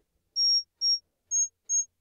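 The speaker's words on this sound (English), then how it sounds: "which gives me a pretty clean sine wave" An analog synth filter self-oscillates into a clean, high sine tone tuned birdlike: four short, pure whistling beeps, evenly spaced over near silence, the last two slightly higher in pitch.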